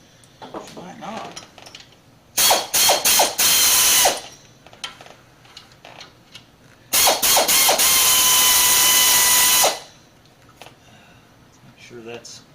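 Socket ratchet wrench tightening a bolt on the engine of a 1979 Chrysler B-body during power steering pump and pulley replacement, two loud bursts of rapid clicking ratcheting with quieter mechanical handling and pauses between.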